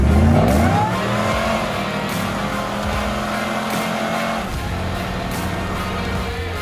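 A supercharged Jeep CJ on 46-inch Mickey Thompson Baja Claw tires revs hard and rips them into a spin, a loud engine roar that climbs, then settles into a sustained high-rpm drone with tire noise, close by.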